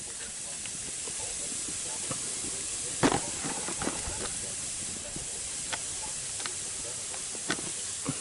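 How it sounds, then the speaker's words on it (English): Wild mushrooms fry in a pan, seasoned with pepper and liquid smoke, giving a steady, even sizzling hiss throughout with a few sharp pops and crackles, one louder near the middle. "Fry that up."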